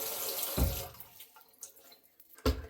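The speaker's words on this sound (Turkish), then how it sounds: "Yani bunları böyle durulayın." Running tap water rinsing marble countertop surfaces after cleaning with Cif, with two strong rushing bursts of water and quieter trickling and dripping between them.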